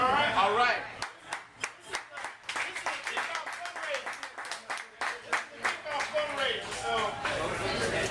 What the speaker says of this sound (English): So you guys scream as loud as you want, clap as often as you can